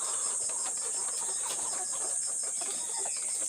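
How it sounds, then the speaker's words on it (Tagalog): A busy flock of 16-week-old layer chickens clucks continuously, with a high steady whine running underneath. "Itong mga manok ko."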